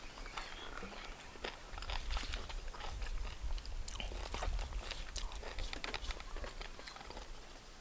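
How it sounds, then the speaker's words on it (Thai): Sticky rice is eaten with mushroom curry in a hut, with close, soft chewing, biting and crunchy mouth sounds in irregular bursts over a faint background. "เรา ก็กินข้าว กันจิ้นกับ เห็ดถอบวันนี้ที่กระท่อมนะฮะ"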